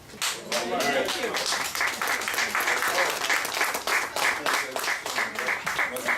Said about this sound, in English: Y'all come on, clap it up.